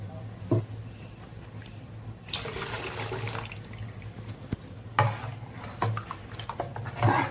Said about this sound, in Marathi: आता यामध्ये पाणी आणि आपण मीठ ऍड करणार आहोत